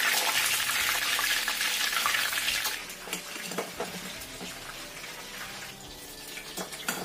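Fish sizzles and crackles in hot oil in a home kitchen, a loud dense frying hiss that fades after a few seconds into quieter bubbling with scattered clinks and scrapes, no voices.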